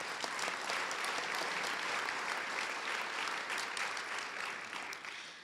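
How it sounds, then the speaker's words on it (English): An audience at a city State of the City event applauds sponsors, a dense sustained clapping from a large crowd that holds steady for several seconds before starting to taper off. "Please give a round of applause for these presenting sponsors."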